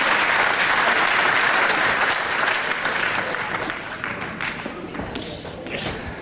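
A wrestling crowd at a televised bout applauds in a loud, continuous burst of clapping that slowly eases off, with scattered thumps and some voices mixed in.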